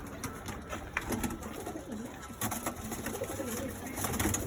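Madras pigeons coo softly in a loft, low murmuring calls repeating against a faint background hum, quiet and fairly close.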